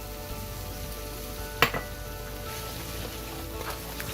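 Yogurt going into a sizzling pan with roughly chopped mint and cilantro, stirred in; a steady quiet sizzle runs throughout with one sharp brief clatter near the middle, no talking.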